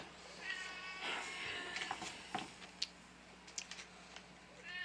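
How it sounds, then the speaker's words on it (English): A cat meows repeatedly with drawn-out, wavering cries close by, followed by a few sharp clicks and taps in an otherwise quiet room. "This kitty wants some MRE as well."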